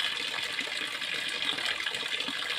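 Irrigation water flowing steadily on a farm with plants and tilapia fish, a continuous rushing, splashing gush heard up close and alone, with no voices over it.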